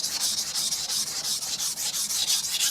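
Aogami 2 steel bunka knife being thinned on a Shapton Glass 220 grit stone, a steady, close abrasive scraping with rhythmic back-and-forth strokes, loud and alone.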